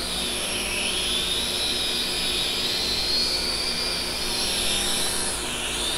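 A Sharper Image fly+drive toy drone hovers nearby with a loud, continuous high-pitched whine from its rotors, the pitch drifting up and down gently as it flies, and no talking.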